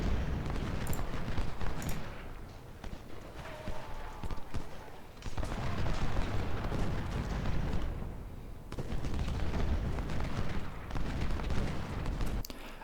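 Canister artillery fire in Ultimate General: Civil War, a dense rumbling run of cannon booms and scattered crackling volleys that swell and fade in waves, with brief lulls between bursts.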